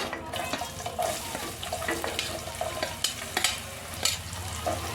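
Onions fry in a pan with a steady sizzle, with occasional sharp scrapes and clinks from stirring scattered through the few seconds, close and fairly loud.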